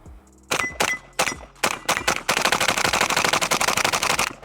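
A Pioneer Arms 556 Sporter AK-style rifle in 5.56 fires its last magazine outdoors: loud, close shots, a few spaced single rounds at first, then a rapid unbroken string of sharp reports with metallic ringing.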